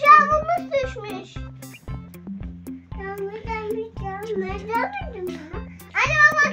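A kitten meows several times, high and close, interleaved with someone talking excitedly and other household voices nearby.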